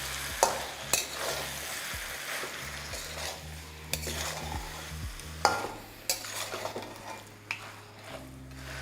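Spoon stirring fried ingredients together in a frying pan, with repeated scraping strokes and sharp clinks against the metal over a soft sizzle and a low steady tone underneath, no voices.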